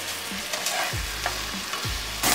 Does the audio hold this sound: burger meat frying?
yes